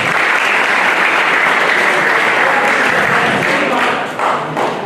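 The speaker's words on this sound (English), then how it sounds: "Give him a clap." A school audience at a boys' career guidance and mentorship fair applauds warmly, with a steady, close burst of clapping that lasts about five seconds and tapers slightly at the end.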